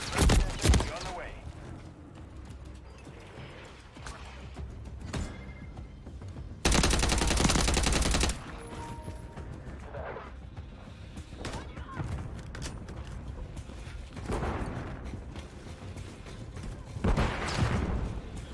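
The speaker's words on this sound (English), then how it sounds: "Taking effective fire! Mag! Grenade out!" Modern Warfare 3 combat: loud bursts of automatic gunfire, one dense heavy barrage in the middle and scattered shots around it, set against background game sound.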